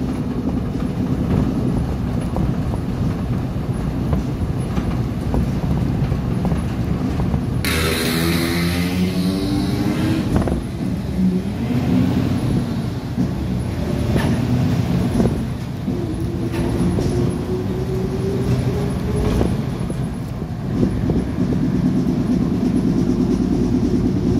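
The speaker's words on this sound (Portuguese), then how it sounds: "O barulho deste ônibus piorou." Interior of an intercity bus traveling at night from Araucária to Curitiba in Paraná, loud continuous engine drone and road rumble with rattling and shaking, a rising whine surging partway through, no talking.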